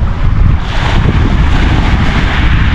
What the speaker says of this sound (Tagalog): Lakas ba naman ng hangin?